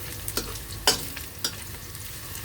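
Chinese sausage being stir-fried in a pan, a soft steady sizzle broken by a few sharp scraping and clinking strikes of a utensil, close and fairly quiet, with no talking.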